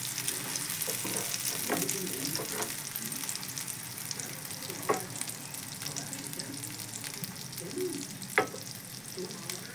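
Pea filling for kochuri frying in a pan over low flame, a steady soft sizzle throughout with occasional scraping stirs breaking through.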